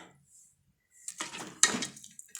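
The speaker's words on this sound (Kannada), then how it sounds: "ಇವಾಗ ಲಿಡ್ ಮುಚ್ಚಿಬಿಡೋಣ." Metallic clatter of a pressure cooker lid being fitted and closed in a home kitchen, a few sharp clanks and scrapes after a quiet pause, close and fairly soft.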